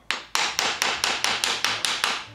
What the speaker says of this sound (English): that might require a hammer and a piece of wood